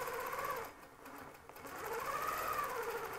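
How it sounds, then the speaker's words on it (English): A longarm quilting sewing machine stitches a clamshell design with a Westalee template, a steady motor whir with shifting pitch, briefly dipping midway before resuming. "So when you're sewing, just gradually work your way out of the dip, nice and smooth"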